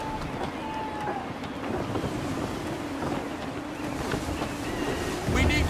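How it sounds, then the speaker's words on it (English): Sailing ship at sea in gusty wind in Assassin's Creed III, a steady broadband rush of wind and water with creaking hull and rigging, loud and continuous, swelling near the end. "Wind looks to be shifting. Stay alert, Connor. Gusty winds can be difficult to manage"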